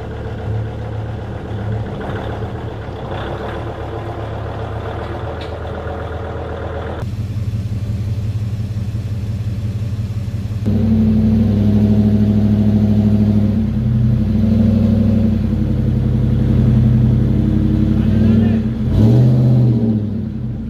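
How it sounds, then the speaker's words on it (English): A truck engine works hard while pulling, a steady loud rumble that steps up in level twice as it revs higher and holds, close by and continuous. "He's gonna use his truck to help me pull it."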